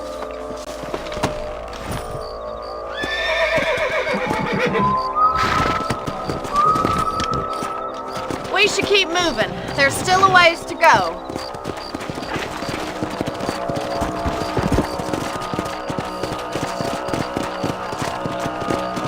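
Horses in the Red Dead Redemption video game, hooves clip-clopping steadily throughout at close range with occasional neighs and whinnies, while a voice speaks briefly over the riding.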